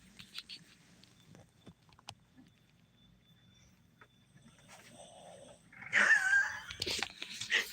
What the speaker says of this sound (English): Do you hear him snoring?